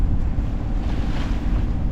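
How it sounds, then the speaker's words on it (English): Waves break against a jetty at an inlet near a lighthouse and sandy beach, heard from a sailboat on the waterway; a continuous, loud rush of surf mixed with heavy wind buffeting, no voices. "Yeah, you can see waves breaking on the jetty up there."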